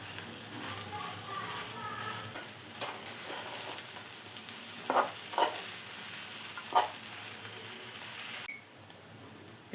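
Soya chunks being stirred and fried in a pan for a soya dry roast, with steady sizzling and a few sharp scraping strokes of the spoon, ending abruptly near the close.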